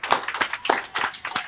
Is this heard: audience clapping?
yes